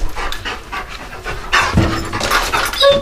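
A protection dog pants heavily and rhythmically right up close indoors at home, quick breaths repeating without any talking.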